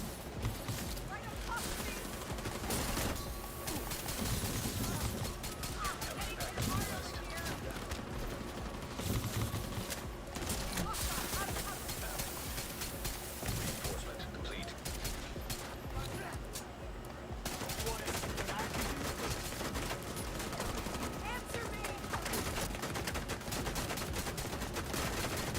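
Rifle gunfire in The Division 2, with rapid dense bursts of shots and mechanical clatter running almost without a break under someone talking throughout.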